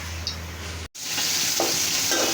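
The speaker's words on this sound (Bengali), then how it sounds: "এই চুলায় মাছ ভাজি হচ্ছে" Loitta fish frying in a pan on a stove, a close, steady sizzle with a brief break midway, then resuming with occasional stirring.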